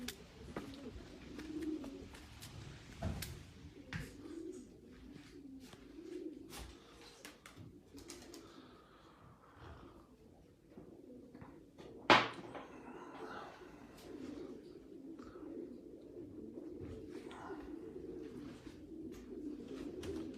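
Racing pigeons coo steadily in a loft of ace birds, a soft continuous murmur with scattered clicks and one sharp knock midway, under a faint background of human activity.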